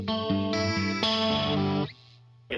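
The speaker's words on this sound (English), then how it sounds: "Some chorus, really just in that first chorus." Electric guitar through a Dimension C style chorus effect, playing shimmering sustained chords that shift every half second or so, then thin to a quiet held low note before a brief new attack at the very end.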